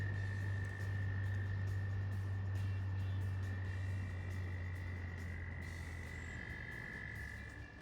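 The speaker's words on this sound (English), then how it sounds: "the frogs are just a-singing down here" A chorus of frogs calls beside a creek near a beaver dam in Rockbridge, Ohio. The steady, dense croaking carries on throughout, with a low hum and faint traffic underneath, and nobody speaks.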